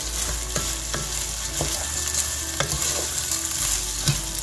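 Rice and angel hair pasta are stirred in a hot pan with butter and oil, producing a loud, continuous sizzle broken by rhythmic scraping strokes of a utensil every half second or so, with no talking.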